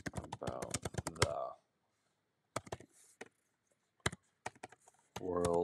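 Computer keyboard typing in short bursts of quiet clicks, set between stretches of a person talking.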